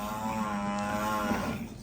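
A Nili buffalo on a Pakistani dairy farm gives one long, loud, close moo with a steady low tone that holds for most of its length, then tapers off toward the end.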